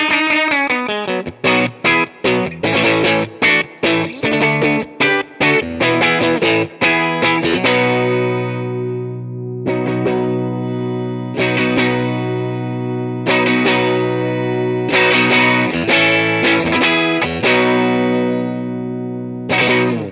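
Electric guitar with a Telecaster bridge pickup through a Tone King Falcon Grande amplifier turned up to about 7, playing crunchy, driven chords and single notes, first in choppy bursts, then in ringing sustained phrases, loud and up close with no talking.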